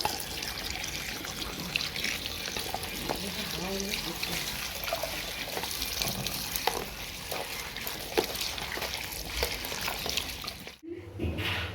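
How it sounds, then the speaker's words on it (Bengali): Kharkol leaves being washed in water by hand, a steady rush of splashing and sloshing running continuously before stopping abruptly near the end. "এবার ভালো করে ধুয়ে নেব"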